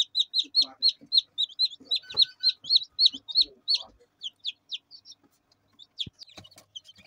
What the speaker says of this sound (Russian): Наша квочка вывела цыплят.